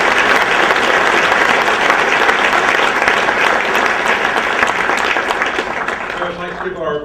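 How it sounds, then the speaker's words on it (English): Sustained, loud applause from an audience for the panelists at a breakfast event, dense and steady for several seconds before tapering off near the end. "Please have a round of applause for our panelists."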